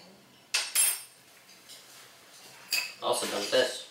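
A metal teaspoon clinks against bowls and dishes while peanut butter oatmeal raisin cookies are being made, giving a few sharp, bright clatters spaced apart, with a louder jumble of clinks near the end.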